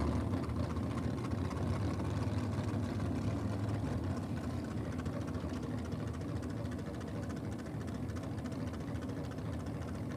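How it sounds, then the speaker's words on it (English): A front-engine dragster with a 350 Chev races a T-bucket running a 400 cubic inch Chev at a nitro drag meet, a steady broad engine roar heard from a distance that holds through the whole stretch without breaks. "Peter Carlton in the front engine dragster, little 350 Chev on board, running against Stephen Jones in the T bucket."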